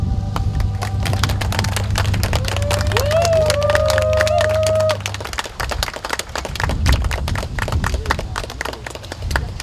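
Wedding guests at the Khutir restaurant burst into applause for the newlyweds' first kiss, a dense, steady patter of clapping from a nearby crowd, with a melody playing underneath for the first half.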